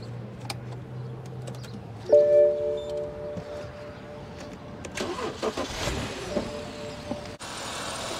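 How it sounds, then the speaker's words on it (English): BMW E60 engine cranking and catching, a brief starter whir followed by a rising flare and then a settled, steady idle, close and with no talking. "So I'm just going to give it a start up right now."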